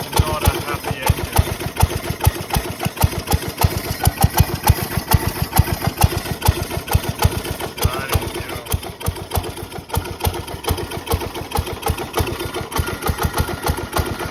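A vintage barn-find Mini-Mow mower engine runs rough, with a fast, uneven chugging pulse that stays close and fairly loud throughout, with no talking over it.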